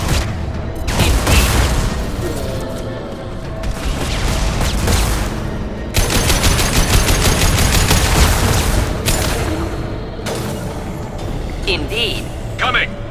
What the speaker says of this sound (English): Heavy fire imminent.